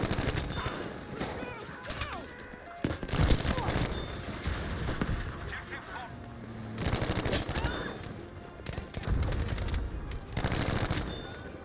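Shotgun blasts in the game Battlefield V, several loud booming shots at uneven intervals among busy battle noise and rapid gunfire, with a voice talking at times.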